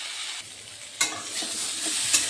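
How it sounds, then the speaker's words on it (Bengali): Potatoes frying with turmeric and salt in a pan for a Bengali katla fish dish, a close steady sizzle broken by a couple of sharp scraping stirs, with no voices. "আলুগুলোর মধ্যে একটু হলুদ আর নুন দিয়ে ভেজে নিচ্ছি।"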